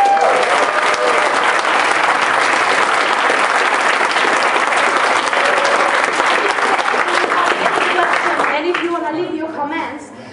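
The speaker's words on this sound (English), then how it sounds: "Give yourself a big round of applause." A large workshop audience in Tallinn breaks into loud, sustained applause with dense clapping and some crowd noise, holding strong for about eight seconds before tapering off as voices emerge.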